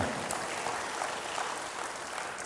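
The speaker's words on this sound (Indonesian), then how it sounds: "Berikan tepuk tangan bagi Tuhan." Steady applause from a church congregation, a continuous wash of clapping that holds at an even level throughout.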